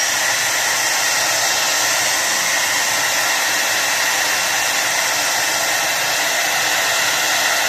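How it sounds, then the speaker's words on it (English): A blow dryer runs on a hot setting over a shaved head with gel, giving a loud, steady, high-pitched whoosh of air close to the microphone without pause. "use a blow dryer"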